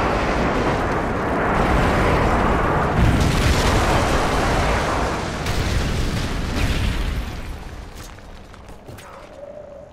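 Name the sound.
airstrike explosions in Call of Duty MW3 video game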